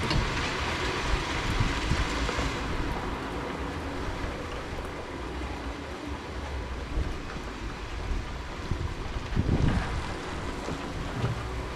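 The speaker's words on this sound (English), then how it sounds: "Pouring here right now, you can hear it" Steady heavy rain pours in a dense, continuous roar with gusty wind noise, unbroken throughout.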